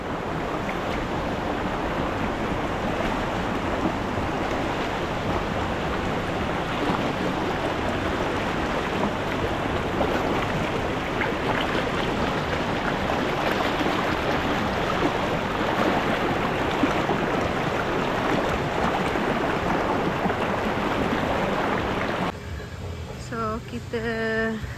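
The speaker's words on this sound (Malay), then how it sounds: "Air dia deras je lah." Fast-flowing river water at a camping spot, a steady broadband rush that stays loud and continuous for the whole stretch, with a brief change in texture near the end.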